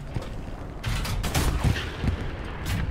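Tank cannon and machine-gun fire in a tank combat video game, a dense run of rapid bursts and mechanical clatter over a steady rumble, loud and continuous, with no talk over it.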